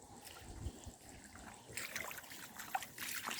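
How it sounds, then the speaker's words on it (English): Irrigation water pours over a small improvised garden-sleeper dam into narrow channels for flood-irrigating pasture and a small orchard, a steady close trickle and splash that grows busier and brighter partway through. "I made a little impromptu dam here just to get the water level up and over the sides and through"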